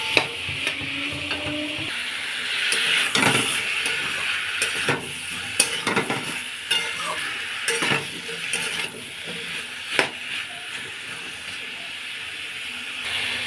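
Watermelon rind curry is stirred and fried in a pan, giving a steady soft sizzle and hiss broken by scraping clicks and knocks of the spoon against the metal.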